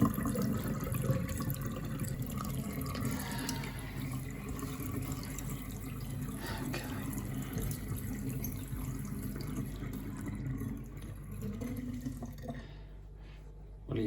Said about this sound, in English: when I let the water flow through, I want it to flush that out.